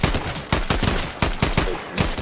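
Rapid gunfire from a video game shooter, a quick string of loud, close shots firing in an uneven rhythm, with no talk over it.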